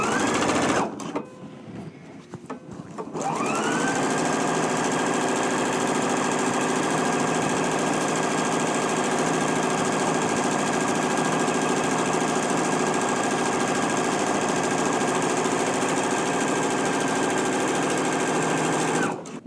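A sewing machine stitches elastic casing rows on Simplicity 9268 pants, running as a steady, close mechanical hum for most of the clip after a brief bout of handling rustle at the start.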